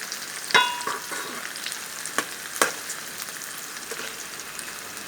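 Ingredients for coriander chutney fry in oil with a crisp, continuous sizzle, broken by a few sharp scraping clicks from stirring.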